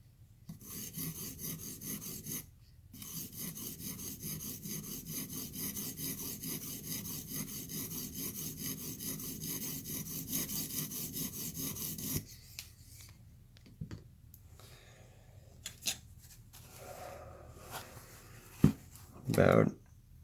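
A chipped, damaged knife blade is drawn in steady, continuous sharpening strokes along its edge bevel for about twelve seconds, a close, even scraping rasp, followed by quieter scattered scrapes and light handling taps.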